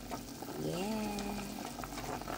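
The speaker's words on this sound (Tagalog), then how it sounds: "Kulo na lang kulo yung ating noodles." A pot of noodles bubbles at a rolling boil, giving a steady close hiss and burble. A voice with a rising tone cuts in briefly over it.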